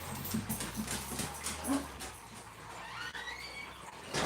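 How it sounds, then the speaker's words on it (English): Dogs on a farm making faint whimpers and shuffling sounds, close by, amid low background noise. "All right, all dogs go outside."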